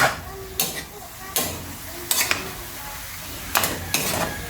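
A utensil stirs adobong sitaw in a cooking pan, giving several separate scraping, clattering strokes at irregular intervals over a low background hiss.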